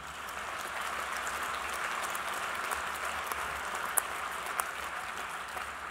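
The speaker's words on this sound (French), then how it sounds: "vous pouvez l'applaudir" An audience applauds steadily for a collaborator at a talk on joy and changing the world, a sustained wash of clapping with a few sharper individual claps standing out, no voices heard.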